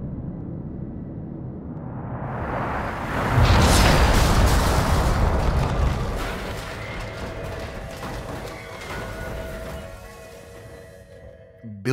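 A distant explosion from audio drama sound design rolls in as a deep, heavy boom that swells and lingers as a long rumbling decay, then thins toward near silence.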